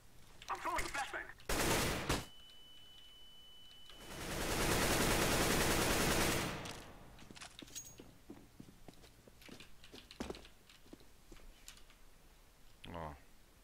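A flashbang grenade is thrown and goes off in Counter-Strike on the Mirage map, a long loud whooshing burst lasting a couple of seconds amid gunfire bursts, footsteps and keyboard clatter.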